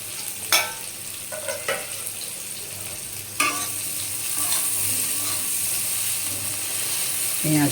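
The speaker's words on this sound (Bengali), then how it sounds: "একটু নাড়াচাড়া করে নিই টমেটোগুলো নরম হয়ে যাক" Tomatoes and spices being stirred and fried in a pan while soybean curry cooks, a steady sizzle with scraping spoon strokes and a few sharp clinks, close and moderately loud, no talking.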